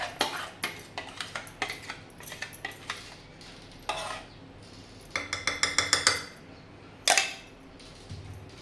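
Thin sago paste is scraped from a steel mixer jar into a wok with a run of rapid metallic clinks and taps, a short pause, then another cluster of clattering knocks and a final sharp clank, close and alone.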